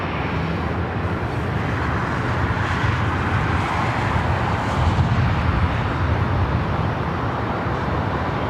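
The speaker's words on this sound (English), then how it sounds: "looking good for north side takeoff on 24 right." An ITA Airways airliner takes off from runway 24 right on the north side of LAX, a loud, steady, broadband jet roar that fills the whole stretch without a break.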